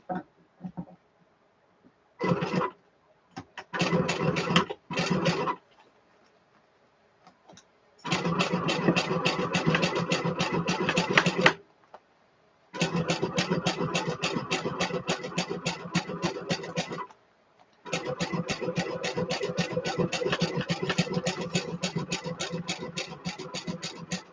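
Sewing machine stitching a clutch wallet with paper pattern in place, short bursts of stitching followed by three long steady runs of rapid mechanical whirring, close and loud, separated by pauses.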